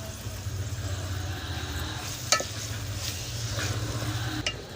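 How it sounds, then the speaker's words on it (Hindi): Tomatoes tipped into a hot frying pan while cooking tikka biryani give a steady crackling sizzle with stirring scrapes, over a low background hum, with no talking. "साथ ही हम टमाटर ऐड कर देते हैं।"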